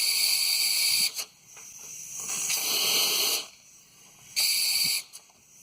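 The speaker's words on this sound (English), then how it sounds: "There goes the air compressor." Air compressor near a 2002 Chevrolet S-10 ZR2 pickup being worked on, cycling with loud hissing bursts of air that stop and restart, three separate blasts with quieter gaps between them.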